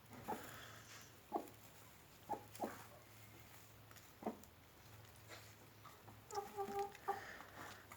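Soft, intermittent clucks from a hen, scattered and fairly faint against a steady background hum, with a short cluster of calls near the end.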